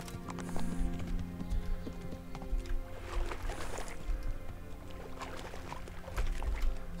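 Horse hooves clip-clop steadily at a walking pace in the medieval game Kingdom Come: Deliverance, crisp and close with a faint ambient bed, the rhythm swelling slightly louder near the end.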